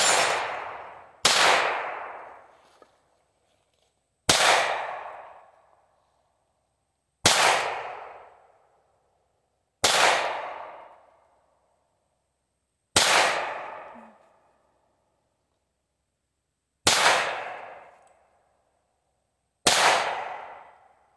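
A pink Ruger SR22 pistol fires eight single shots, spaced a few seconds apart. Each close, sharp crack rings out and decays quickly, with silence between shots and no talking.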